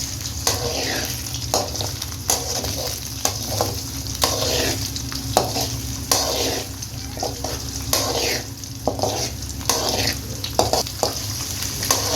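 Beaten egg frying in a pan for chicken fried noodles, stirred and broken into large pieces, with a steady loud sizzle and repeated scraping strokes of a spoon across the pan throughout.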